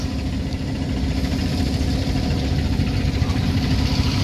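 A trawler boat engine rumbles steadily and loudly throughout, a constant low droning hum with no pauses.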